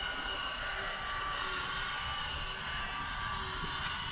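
A motorized blackout shade in a Mercedes Sprinter motorhome runs with a soft, steady electric whir, quiet and continuous, over a faint background hum.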